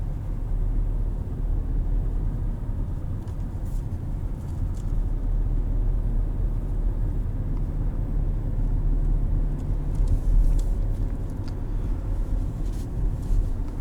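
Low, steady engine and road rumble from inside a moving 2019 Nissan Sentra S sedan, a continuous drone with faint ticks and no voices.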